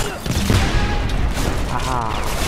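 Grenade launcher fire and booming explosions from the shooter video game Homefront, set in dense, continuous gunfire with someone talking over the action.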